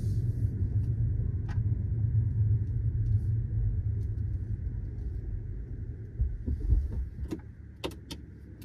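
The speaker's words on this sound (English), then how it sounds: "Turn my engine off, hope that helps." A car engine idles at the roadside with a low, steady rumble heard from inside the cabin, followed toward the end by a few faint clicks and knocks.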